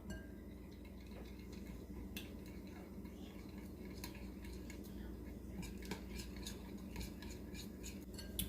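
Utensils clink and scrape against a bowl while mixing seasoning into Jamaican jerk chicken, a steady mixing rhythm, close up, with no talking.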